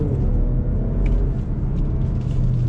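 Inside a 2021 Mazda CX-30 Turbo SUV, the engine pulls under throttle as a dense, steady low rumble of road and motor noise that fills the cabin, with no one speaking.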